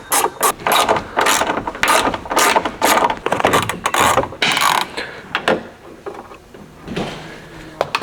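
A ratchet with a 10mm socket backs out the bolts holding a tow mirror on a 2008–2016 Ford Super Duty truck, giving loud, close bursts of rapid clicking separated by short pauses.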